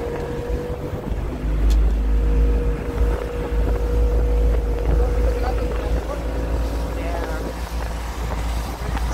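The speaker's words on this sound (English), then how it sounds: "the boat is accelerating." A boat engine drones steadily with heavy low rumble and wind buffeting the microphone, building slightly as the craft picks up speed.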